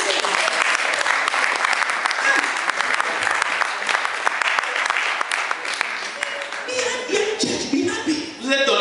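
Church congregation applauding loudly and steadily, a dense wash of many hands clapping at close range, with voices mixed in and the clapping thinning into scattered claps near the end.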